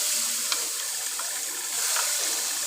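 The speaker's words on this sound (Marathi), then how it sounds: "आता हे आपण तेलामध्ये घालूया वाटण" Green chili, cumin and coriander spice paste for homemade samosas sizzles in hot oil with a loud, steady hiss and scattered small crackles, close by with no talking.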